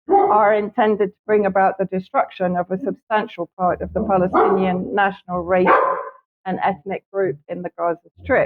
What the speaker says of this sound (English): apologies for the dog barking, my neighbours suddenly decided to go on the